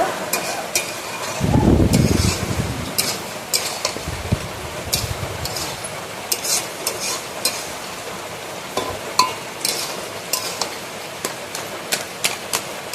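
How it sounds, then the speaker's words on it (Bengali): Banana flower curry with raw chickpeas is stirred in a pan with a spatula, giving repeated close scraping and clacking strokes over a low sizzle, with a deep muffled thump early on. "দিয়ে আমি ভালোভাবে এইভাবে মোচার ঘন্টটা ঘেঁটে দেবো"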